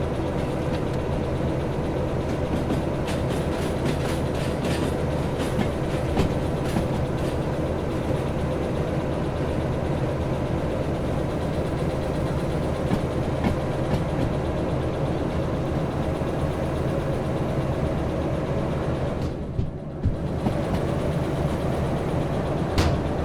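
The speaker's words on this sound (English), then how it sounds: "What's weird about the engine noise is that it's like it's full volume no matter where that door is." A locomotive engine in the train simulator Derail Valley drones steadily and loudly throughout, a constant low rumble with faint clicks on top, dipping briefly near the end, with no one talking.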